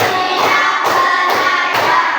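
Schoolchildren clap in unison, a counted series of four distinct clapping bursts with brief gaps between them, close and clear without speech.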